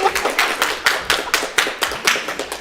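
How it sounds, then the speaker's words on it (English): An audience at a combat robotics tournament claps in a loud, loosely rhythmic burst, each clap distinct and close, with no talking over it. "round of applause if you think Trillian"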